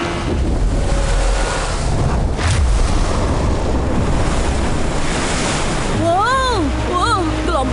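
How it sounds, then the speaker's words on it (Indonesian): Strong ocean waves in the Gogobus animated adventure surge and roar loudly and continuously with wind buffeting, while gliding whistle-like tones rise and fall near the end. "Wow, gelombangnya kuat sekali."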